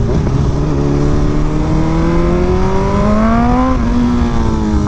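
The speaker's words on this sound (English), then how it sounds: "That bike is so loud." A loud BMW S1000RR motorcycle with a drag setup runs close by, its engine droning with a steady, strong roar that rises gradually in pitch as it revs higher and then levels off.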